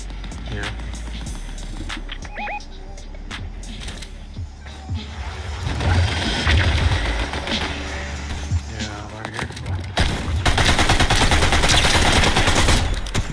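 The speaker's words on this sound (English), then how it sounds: "Yeah, they're shooting at me." Rapid gunfire bursts from players shooting in the Fortnite video game, loud and dense with repeated volleys, heavier toward the end, mixed with game effects while voices talk over it.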